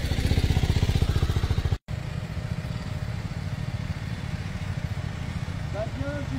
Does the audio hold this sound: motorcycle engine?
yes